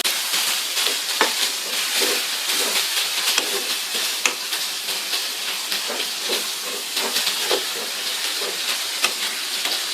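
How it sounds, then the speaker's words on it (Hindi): Chicken frying in a karahi gives a loud, steady sizzle and hiss with frequent small pops and crackles, close up and alone with no voices. "चिकन को इसमें अच्छी तरह से फ्राई करेंगे।"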